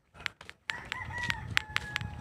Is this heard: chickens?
yes